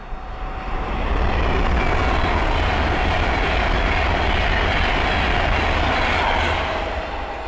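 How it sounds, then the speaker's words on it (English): A fast Class 390 Pendolino electric train rushes past on the West Coast Main Line at Linslade with a loud, steady roar that swells in and fades slightly toward the end, no talking. "the next train to pass by is an Adventure West Coast Class 390 Pentalino from London Euston to Glasgow Central"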